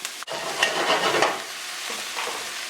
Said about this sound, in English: Give that a little stir around.